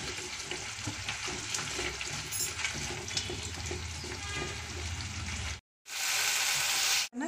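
A thick tomato pickle mixture sizzles and fries steadily in a pan, a loud continuous hiss with faint stirring, briefly cutting out near the end before the sizzle resumes even brighter.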